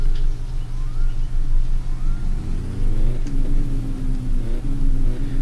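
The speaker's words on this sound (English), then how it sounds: "my starter definitely doesn't sound great. And my idle's a little rough, it sounds like." A car engine in the video game My Summer Car idles with a rough, uneven throb, its pitch shifting slightly midway, loud and close with no talking.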